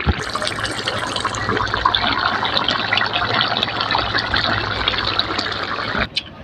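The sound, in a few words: pouring cooked vegetable curry out of the pan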